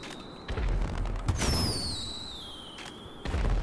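Fireworks in a video game neighborhood: a thudding burst, then a louder crackling boom with whistling streaks that fade, and another pop at the end, fairly close and without talk.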